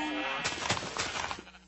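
Sheep in the Minecraft video game give short bleats, a quick faint burst of a few calls under light background sound.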